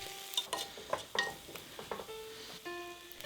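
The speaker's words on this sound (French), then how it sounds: "On continue à mélanger pendant 1 à 2 minutes" Diced carrots, potatoes and chopped garlic stirred in a pot, a spoon scraping and clinking in quick repeated strokes over a faint sizzle, fairly quiet with no voices.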